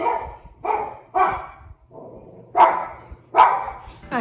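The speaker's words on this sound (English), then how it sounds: "It's a symphony of barking." Several dogs bark close by in sharp, uneven bursts, with a lower rumbling growl or bark filling the gaps between them.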